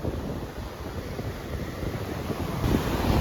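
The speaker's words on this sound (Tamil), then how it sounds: "இன்னைக்கு வந்து கடல் கொஞ்சம் பயங்கரமா நிறைய அலையோட இருக்கு" Rough, high-surf sea waves washing onto a beach, a continuous broadband roar with wind buffeting the microphone, swelling slightly louder near the end, no voices.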